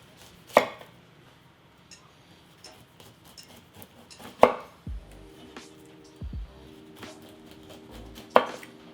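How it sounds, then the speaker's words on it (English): A knife slices through a whole pineapple, trimming off the top and bottom and then cutting away the peel. Three distinct chopping thuds land against a cutting board, with quieter scraping and shifting sounds between them. "We're gonna remove the bottom and the top of the pineapple and then all of the peel."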